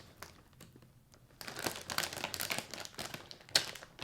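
A resealable cereal bag of Oat Blenders Honey and Almonds crinkles as it is handled, faint at first and then louder rustling with a sharp crackle near the end.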